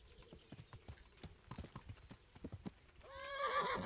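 Horse hooves clop in an uneven rhythm at a medium distance in the medieval video game Kingdom Come: Deliverance, then a loud, wavering neigh rises near the end.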